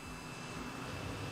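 Jet aircraft noise in a flight simulator game, a steady broadband roar with a thin high whine, continuous and moderately loud.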